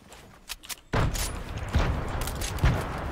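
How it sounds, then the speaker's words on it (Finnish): A grenade blast goes off in a video game shootout, a sudden heavy boom followed by a continuous crackle of gunfire and rumbling impacts. "Pistän granaatteen."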